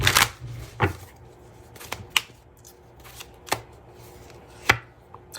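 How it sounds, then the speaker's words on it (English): Celestial Cosmos Tarot cards being shuffled and pulled, a quiet series of sharp riffling snaps and papery slaps spaced irregularly a second or so apart against a near-silent background. "I'm pulling from my Celestial Cosmos Tarot."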